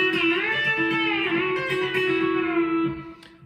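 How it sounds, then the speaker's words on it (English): A guitar B-bender lick on the top two strings: a short run of twangy electric guitar notes with a bent pitch, clear and alone, ending with a brief fade. "the only way I can really get a certain sound on this guitar is with a B bender"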